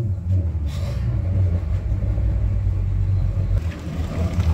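Twin Mercury outboard engines on a Boston Whaler boat start with their sport exhaust switched off, settling into a steady, loud low rumble at idle.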